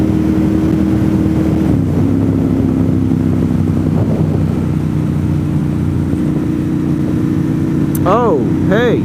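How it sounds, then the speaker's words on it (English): UPS trucks drive past on a rural mountain road, a loud steady engine drone with passing vehicles sweeping by near the end, and a person talking over it. "The UPS trucks are headed to work."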